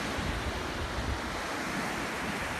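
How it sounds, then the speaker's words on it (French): Strong seaside wind on Menorca roars and buffets the microphone in a loud, continuous rush, with surf-like broadband noise throughout and no voices. "il y a tellement de vent que je pense qu'on va rien entendre"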